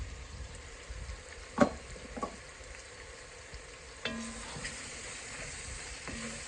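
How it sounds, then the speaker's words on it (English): Flour and fat roux cooking in a pot as the base for a weeknight potato soup, a soft steady sizzle with occasional stirring scrapes and a couple of sharper clinks, quiet and close with no talking. "So let's get our roux going."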